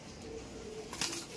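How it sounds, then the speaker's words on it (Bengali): A pure Harukutu pigeon gives a short, soft coo close by, with a faint rustle of handling against a quiet background. "এটা হচ্ছে আপনার হারুকুটু পায়রা"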